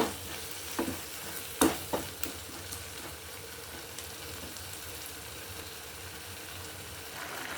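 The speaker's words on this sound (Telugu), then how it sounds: "ఇలాగే కలుపుతూ ఉండాలి" Jaggery melting in a pan for pumpkin halwa is stirred steadily, a low bubbling sizzle with a few sharp spoon scrapes and clacks near the start, close and fairly quiet, no talk.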